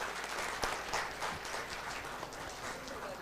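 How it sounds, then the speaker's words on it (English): An audience at a corporate HR conclave panel discussion gives a dense round of applause, a continuous, fairly quiet rattle of many hands clapping together. "A big round of applause."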